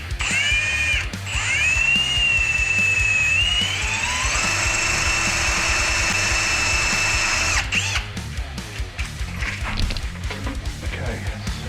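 A power drill bores into metal up close, its motor whining loud and high and shifting in pitch as it bites, then stopping, followed by clanks and shop handling noises.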